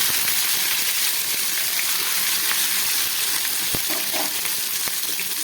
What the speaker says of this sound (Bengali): এবার এর মধ্যে আমি কয়েক টুকরো টমেটো দিয়ে দিচ্ছি।